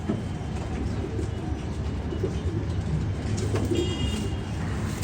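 Low, murmuring coos of young Shiyalkuti pigeons blend into a steady noisy background, with faint rustling and a brief higher chirp toward the end.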